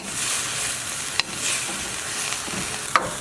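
Shrimp stir-fry in a pan gives a steady, close sizzle of frying, with a couple of sharp clicks from stirring.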